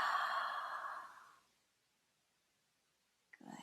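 A slow, breathy exhale, close and soft, fading out over about a second and a half, then silence and a brief rustle at the end.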